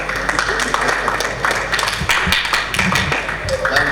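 A dinner audience at a multicultural end-of-year family gathering claps hands, a dense, steady patter of many close claps with scattered louder taps and some chatter mixed in.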